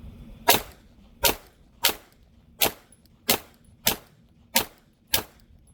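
Eight sharp pistol shots from a Glock 48 at an outdoor shooting range, fired one at a time in a steady, unhurried rhythm about three-quarters of a second apart, each crack loud and close with a short ringing decay.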